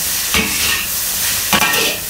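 Pineapple fried rice with cashew nuts is stirred in a hot cast iron wok, two quick scraping tosses over a steady sizzle, close and clear without talk.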